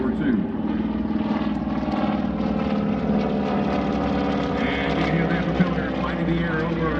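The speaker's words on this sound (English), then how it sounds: "The air over Eielson Air Force Base as the T-6 Texan comes in" A T-6 Texan propeller trainer flying over Eielson Air Force Base during an Alaska airshow, its steady droning engine heard throughout, with a voice speaking over it.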